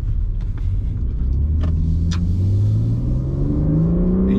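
A BMW G80 M3 drives on the road just after a steering rack replacement, its engine rumbling steadily and rising in pitch as it accelerates through a turn, with a few light clicks and knocks inside the cabin.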